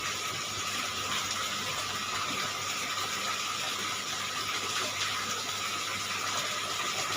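Water drains steadily from a home aquarium during cleaning, a constant hissing, gushing flow heard close up and unbroken, with no voices.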